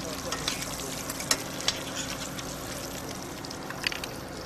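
Langoustines frying in a hot pan with steady close sizzling and crackle, a few sharper spits and clatters of stirring through the whole stretch, no talk.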